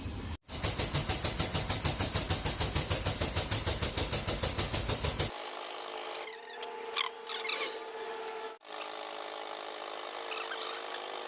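A wheel bearing is pressed into the hub of a Mitsubishi Outlander PHEV: a fast, loud, even mechanical rattle from a power tool runs for about five seconds, then stops, leaving quieter scrapes and clunks.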